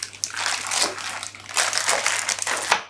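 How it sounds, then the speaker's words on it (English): A plastic bag holding woodworking jig parts crinkles and crackles as it is handled up close in a workshop, in irregular bursts over a faint low hum. "Of course these things come in a plastic bag."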